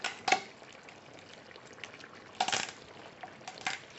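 Faint, intermittent crunching and grinding as small pimento berries are crushed, a few sharper cracks standing out against quiet background.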